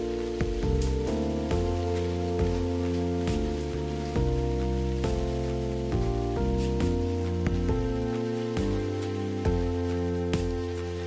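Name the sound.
rain from a video game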